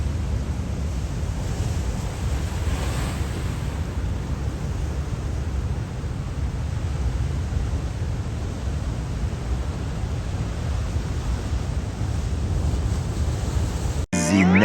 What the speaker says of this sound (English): The tide is rolling in.